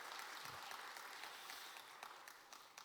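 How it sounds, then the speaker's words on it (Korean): A church congregation at a Wednesday worship service applauds after a special hymn performance, a continuous, fairly quiet patter of many hands clapping evenly throughout. "우리 다 같이 박수로 크게 박수하겠습니다"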